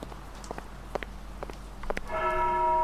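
In the horror video game Hibernation, light footsteps tap along before a church bell strikes loudly and keeps ringing with a sustained, resonant tone.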